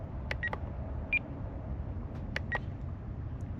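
Short electronic timer beeps from a radio transmitter at a FlightLine OV10 Bronco model flying session, a few brief tones spaced apart over faint outdoor background noise.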